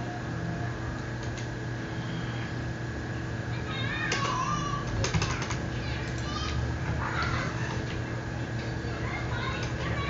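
Computer keyboard typing while drawing lines in AutoCAD: soft, scattered key clicks in short bursts over a steady electrical hum, with a faint voice in the background.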